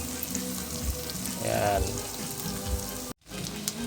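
Hotdog pieces frying in a pan for fried rice, a steady soft sizzle with occasional scraping stirs and a brief clatter, close to the microphone.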